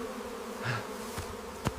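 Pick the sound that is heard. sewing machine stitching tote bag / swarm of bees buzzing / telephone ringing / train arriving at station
swarm of bees buzzing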